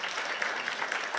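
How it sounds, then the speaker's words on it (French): Audience applause at a live stage event in Marly, in the Valenciennois area of northern France: a dense, steady wash of many hands clapping throughout the short stretch, with no talk over it. "Alors je pense qu'un tel CV mérite des applaudissements nourris."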